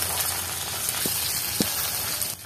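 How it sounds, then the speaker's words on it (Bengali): Shrimp tossed into browned onions and stirred in a pan on a clay stove, a steady close sizzle of frying with a couple of soft scraping knocks from the stirring. "এখন আমরা চিংড়ি মাছগুলোকে দিয়ে দিব। ভালো করে নেড়ে নিচ্ছি।"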